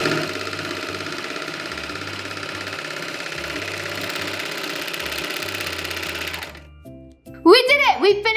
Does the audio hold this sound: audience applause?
no